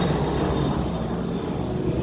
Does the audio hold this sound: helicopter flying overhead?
yes